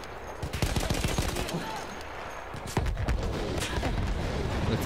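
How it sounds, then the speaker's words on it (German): Gunfire in the video game Battlefield 1 crackles continuously, dense rapid shots and bursts with heavy booms mixed in, loud and sustained throughout with no clear pauses. "Jetzt knallt es von der Ecke."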